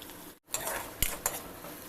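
Slit green chillies hit hot oil already holding bay leaf, black pepper, cloves, onion, garlic paste and ginger paste, giving a brief burst of bright sizzling after a short gap, with a couple of sharp utensil clinks.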